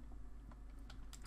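Quiet clicking of a computer keyboard as text is typed into a plugin editor, a few soft irregular keystrokes over a steady low hum, faint and close.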